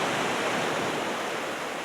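Waves wash onto the beach at Barry Island at high tide on a calm, grey day, a soft continuous surf hiss with no distinct breaks and nobody talking.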